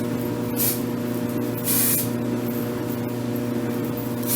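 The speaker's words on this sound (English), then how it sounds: "And I'm just going to spray a little bit in my root." Big Sexy Hair spray clay sprayed at the hair roots, two brief hissing bursts from the aerosol over a steady low background hum.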